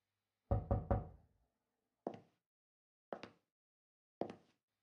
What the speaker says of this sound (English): Now, take the knock on the door and the footsteps coming in.